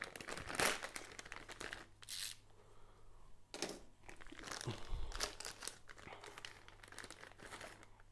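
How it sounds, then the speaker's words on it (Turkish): A utility knife slices open a Seachem Purigen filter-media package, with crinkling and tearing plastic bursts scattered across the clip, fairly close and moderately loud, with no talking. "şöyle maket bıçağıyla boş kısmına dikkat ederekten açalım"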